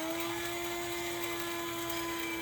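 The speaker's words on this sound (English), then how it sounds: "And then you grind this all up" An electric grinder whirs steadily at close range, grinding a batch of seasoned salt spices with dill seed in one continuous high-pitched drone with no pauses.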